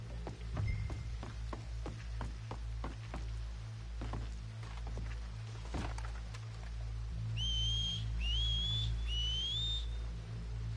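A few rising whistled notes in Red Dead Redemption 2 sound near the end, over steady ambient noise and soft scattered taps.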